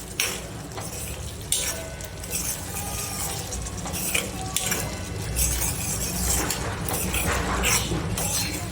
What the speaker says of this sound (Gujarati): આ રીતે બધું મિક્સ કરી અને બેથી ત્રણ મિનિટ આપણે ચડવા દઈશું